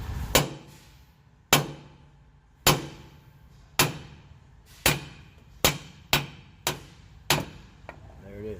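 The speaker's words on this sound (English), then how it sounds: "I'll take this hammer and pick the fat side of this collar right here by the" A hammer strikes the collar of a vehicle U-joint near the weld, giving about eleven sharp metallic clangs, spaced slowly at first and then quicker, each one ringing briefly.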